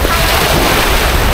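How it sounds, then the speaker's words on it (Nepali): Sea waves breaking on the shore make a loud, close, continuous roar with heavy wind buffeting the microphone. "समुद्रको छाल त खतरा है"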